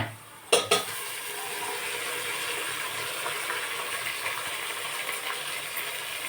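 Ginger garlic paste dropped into hot oil in a pot for chicken biryani, with a sharp hiss at the start and a steady close sizzle while a spoon stirs and scrapes, no voices.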